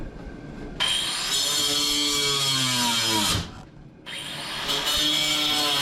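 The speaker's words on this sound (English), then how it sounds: "I'm like cutting the rivets with the backside." A power cutting tool slices through rivets on a car subframe to free a brake cable during a Volkswagen Mk2 B5.5 swap, a loud continuous whine that pitches down under load, cuts out briefly, then resumes.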